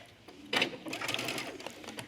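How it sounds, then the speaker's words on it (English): A sewing machine stitches the seam of a two-piece trench coat sleeve, a brief close run of fast, steady mechanical whirring that starts after a short click. "And we're going to start sewing."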